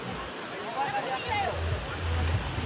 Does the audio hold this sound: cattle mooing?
no